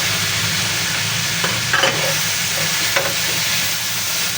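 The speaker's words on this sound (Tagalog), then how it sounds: "At ilalagay na po natin yung ating pork." Pork sizzles steadily in a pan for Indonesian sambal embe, a constant hissing fry with a couple of brief stirring clinks in the middle.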